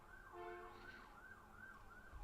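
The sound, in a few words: ambulance siren passing outside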